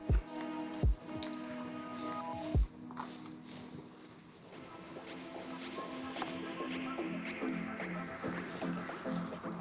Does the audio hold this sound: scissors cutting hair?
yes